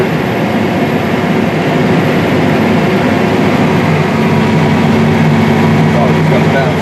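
A Versatile 450 Delta Track tractor works a field of hard-packed black soil, its engine a loud, continuous low rumble heard from inside the cab, shifting pitch slightly near the end as it downshifts; a voice is also present.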